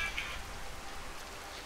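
Steady rain hiss from the True Storms weather mod with the Obsidian patch in a video game, a dense, even wash of falling drops filling the whole moment without any voices.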